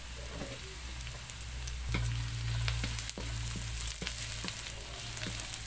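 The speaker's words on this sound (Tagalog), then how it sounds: "lagay naman natin ito, ating bawang" Garlic sizzling in hot oil in a pan as part of a pork dish, a steady close crackle with occasional louder pops and a low hum underneath, no talking.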